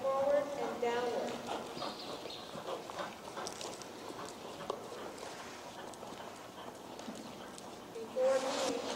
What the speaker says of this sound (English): circle right, 20 meters in rising trot, allowing the horse to stretch forward and downward